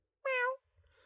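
A cat named Boo lets out a single clear, tonal meow, fairly close and isolated, followed by a faint low rustle and a fainter trailing tone.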